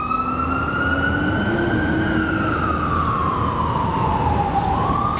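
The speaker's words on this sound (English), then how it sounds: "We got some sirens." An emergency vehicle siren wails continuously, its pitch sweeping slowly up and down, loud and close against steady traffic rumble with no talking.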